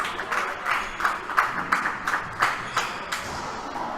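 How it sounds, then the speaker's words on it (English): Spectators clap for a great diving effort during a women's singles racquetball match at the 2017 Pan Am Championships, a steady patter of moderate applause with distinct sharp claps pulsing throughout. "Crowd applauds the effort from her."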